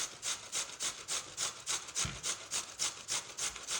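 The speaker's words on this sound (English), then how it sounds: "continue grating like this" Carrots being grated by hand on a kitchen grater, a steady series of rhythmic rasping scrapes about three per second, close and fairly quiet, with no talking.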